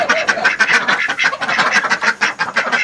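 A flock of ducks gathered for morning feeding quacks loudly and close by, many raspy calls overlapping in a busy, unbroken stream.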